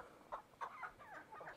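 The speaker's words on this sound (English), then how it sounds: "Okay, so I caught me another leghorn hen." A Leghorn hen clucks faintly in a quick series of short, soft calls, a few per second, with no voices over them.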